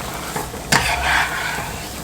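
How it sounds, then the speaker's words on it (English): Thinly sliced onions tossed and stirred in a hot frying pan, a sharp scrape followed by close, bright sizzling that settles back to a steady fry. "And we're just going to give this a toss."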